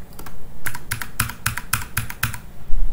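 Close, crisp presses on a computer keyboard, a handful of distinct evenly spaced keystrokes with quiet gaps between them.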